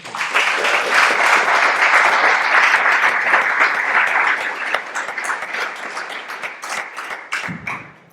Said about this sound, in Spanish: Si les pido un fuerte aplauso para Julio Enche, por favor